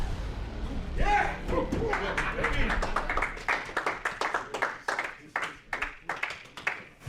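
A group of New York Jets players and staff clapping on a team flight, a brief burst of applause with crowd noise that thins into scattered individual claps.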